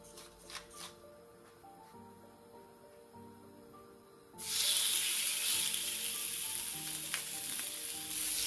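Seasoned meat hits a hot pan for searing, a loud steady sizzle bursting in halfway through after quieter kitchen clatter and faint background tones.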